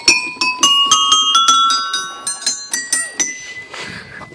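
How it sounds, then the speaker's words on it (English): Metal bells at a park playground ring out one after another, bright struck tones with long shimmering decay, a quick irregular series of near, loud strikes that thins toward the end. "This beautiful bell area."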